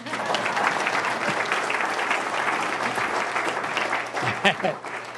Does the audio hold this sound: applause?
yes